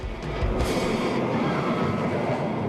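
Steel Phantom hypercoaster train rolling along its steel track, a steady rumbling clatter of wheels with a brief higher hiss early on, heard continuously and fairly close.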